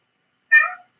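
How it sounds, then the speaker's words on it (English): A house cat gives one short, clear meow close by, alone against silence. "Excuse my cat."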